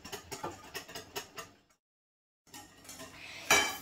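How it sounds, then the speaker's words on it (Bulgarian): Eggs are whisked in a bowl for pancake batter with a utensil tapping and scraping against the bowl in a quick rhythmic series, a brief pause, then more clinking stirs, all close up. "Сега избъркахме яйцата"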